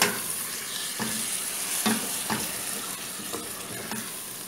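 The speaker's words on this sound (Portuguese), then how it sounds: "O bacon já tá fritinho." Bacon frying in a pan gives a steady, close sizzle, punctuated by a handful of spatula scrapes and clinks as it is stirred; no one speaks.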